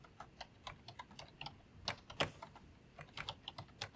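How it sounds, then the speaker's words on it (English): Fingers type on a tiny computer keyboard while installing software on a laptop, producing steady, close clicking keystrokes in quick irregular bursts with no voices. "This keyboard's tiny and weird."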